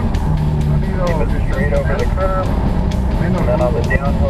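A Chevrolet Corvette C8 runs with a loud, steady engine drone close by, and someone talks over it throughout.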